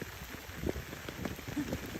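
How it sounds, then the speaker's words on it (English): Steady rain pours onto a tent while camping on the Appalachian Trail in Georgia, a dense close patter with scattered heavier drops, no voices. "I had to pack up in the pouring rain."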